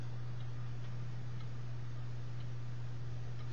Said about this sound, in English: Listen to the ticking of the clock.